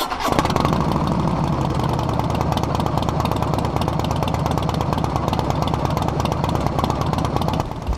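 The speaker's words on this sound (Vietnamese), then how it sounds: "Đó là tiếng ống bô được phát ra từ những chiếc xe của hãng Harley Davidson" Harley-Davidson Fatboy motorcycle engine and exhaust running loud and close, a steady deep throbbing rumble that continues for the whole stretch with no talking.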